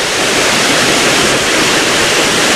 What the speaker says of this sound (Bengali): এই দেখুন ছাঙ্গি ফলস। এখানে জলের ছিটেও আসছে,